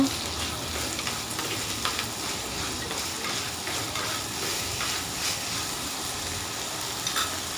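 Anchovy masala sautéing in a pan after salt is added, giving a steady, close sizzle and crackle of frying with faint stirring scrapes throughout, no voices.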